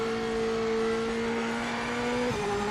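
An all-American sports race car in a track racing game revs hard with a loud, steady engine whine whose pitch holds high and then drops sharply near the end, heard up close with no voices.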